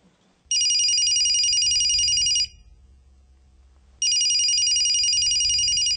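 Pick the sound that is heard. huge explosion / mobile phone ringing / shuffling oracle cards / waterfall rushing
mobile phone ringing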